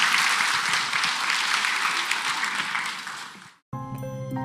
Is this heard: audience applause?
yes